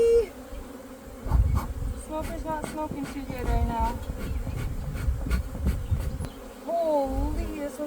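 Honeybees buzz steadily around an open nucleus hive during a colony installation, a dense close hum running throughout with occasional louder passes near the microphone, while a person talks over it about the smoker.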